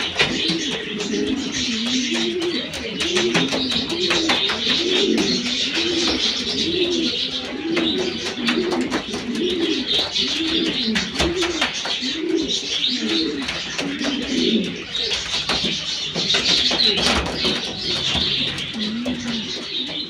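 Pouter pigeons coo in a steady rhythmic run of low, rolling calls, close and continuous, with light chirps and rustling in the background.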